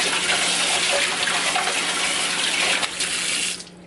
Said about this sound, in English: And fill this up with hot soapy